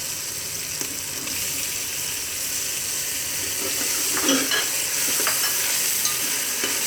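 Tomatoes added to a frying pot for green chickpea pulao and stirred, a close, steady sizzle with wet scraping and a brief burst of louder bubbling partway through.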